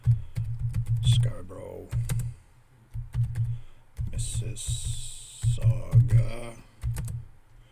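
Fingers typing on a computer keyboard in short bursts of quick clicks, close and clear, while someone speaks over and between the bursts.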